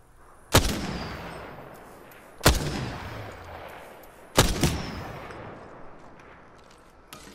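Sniper fire aimed at the player in Apex Legends: three heavy, booming shots spaced roughly two seconds apart, each ringing out and fading before the next.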